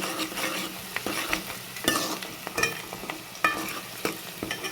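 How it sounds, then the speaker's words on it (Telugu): Cumin seeds fry in hot oil with a continuous crackling sizzle, while a spoon scrapes and taps against the pan in irregular strokes, close up and with no voices. "కొంచెం జీలకర్ర వేసుకుందాం"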